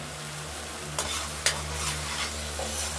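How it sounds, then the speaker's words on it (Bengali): Stone-ground spice paste frying in oil in a kadai, a steady close sizzle with a couple of brief scraping stirs, no voices. "মশলাটা এবার কষে কষে এসছে"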